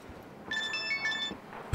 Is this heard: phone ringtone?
yes